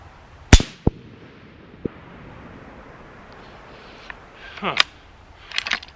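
Shots of blue ammo ring out at steel targets outdoors: a loud sharp report followed by a few quieter cracks, then more distant pops with a faint metallic ping, spaced over several seconds.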